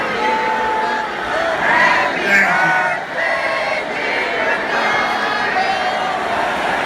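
Large crowd at a rally cheering and shouting, a sustained roar that swells and dips, with a voice briefly speaking over it.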